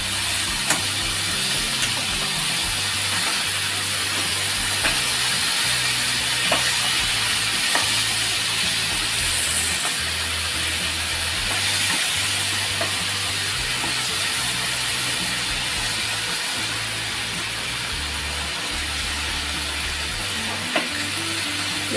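Mixed Maharashtrian panchras vegetables are stirred in a hot pan, giving a loud, steady sizzling hiss with occasional scraping clicks from the spoon throughout.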